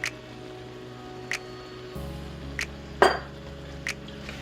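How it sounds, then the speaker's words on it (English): Food in a pan for stuffed sweet potatoes is stirred with several sharp clinks and scrapes of a utensil against cookware. The clinks come at irregular intervals over a steady low background hum. "Give it another stir."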